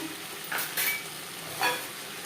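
Potatoes fry with onion and tomato in a pan under a soft, steady sizzle, broken by a few brief stirring swishes nearby.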